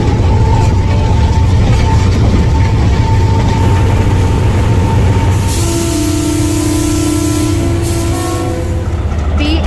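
A Pakistani passenger locomotive on the Rehman Baba Express runs loudly from inside the cab, a heavy steady low rumble with rail clatter and faint squealing tones throughout, and a voice speaks faintly beneath it.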